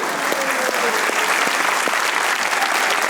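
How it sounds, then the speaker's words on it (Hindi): A studio audience on a comedy talk show applauds loudly and steadily, a dense, continuous wash of clapping that fills the whole stretch without a break. "दुर्रे फिशा के लिए तालियां होनी चाहिए।"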